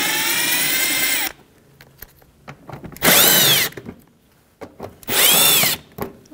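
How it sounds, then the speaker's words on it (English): Power driver whirring as 7mm mounting screws are backed out of a 2007-2017 Jeep Patriot 2.4L fender well on the passenger side, three loud bursts at the start, middle and end with quiet handling between. "It's a 7mm socket or wrench, and you're going to remove them in both fender wells"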